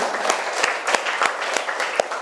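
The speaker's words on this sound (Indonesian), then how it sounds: "Yuk kita beri aplaus buat kita semua." A classroom of students claps together in steady, dense applause, loud and close, with no talk over it.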